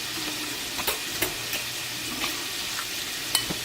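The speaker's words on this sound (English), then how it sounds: "let's mix our mixture and see what's going on in here" Stirring a low-carb meal prep mixture in a bowl, a soft continuous scraping swish with a few brief clinks of the utensil against the side, close and fairly quiet.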